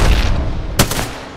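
Gunfire in the Apex Legends battle royale video game: a sharp, loud burst of shots cracking out near the middle, followed by a quick decaying rattle, with no talking over it.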